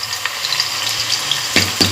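A spoonful of homemade ginger garlic paste frying in a pan for chicken korma, a soft, close sizzle with a few wet crackles and stirring scrapes, no voices.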